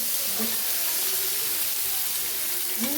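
Shrimp fry in a pan with a dense, continuous broadband sizzle, close and loud, holding steady throughout with faint occasional bubbling pops.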